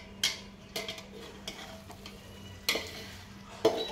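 Chicken pieces frying with ginger garlic paste in a pan, a soft steady sizzle beneath several sharp clinks and scrapes of a spoon against the pan at irregular intervals, close and fairly quiet, no talking.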